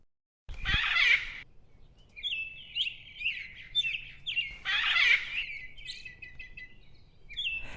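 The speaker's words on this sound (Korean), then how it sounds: "두견새 소리가 가득했습니다." Lesser cuckoos sing near a clifftop pavilion amid blooming flowers, their bright, chirping calls rising in two loud bursts with a steady run of softer warbling notes between them.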